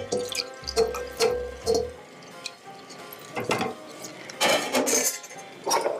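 Tomato water and San Marzano tomatoes are poured into a pot for lamb ragù, giving close wet splashing and liquid sloshing with a few clinks of cookware, no voices heard.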